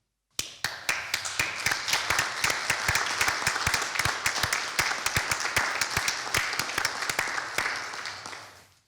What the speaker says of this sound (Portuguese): eu proponho uma salva de palmas ao pessoal não docente da